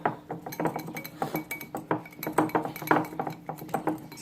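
Choux pastry dough is stirred in a bowl with a utensil, producing rapid, irregular clinks and scraping taps against the bowl at close range; no talking.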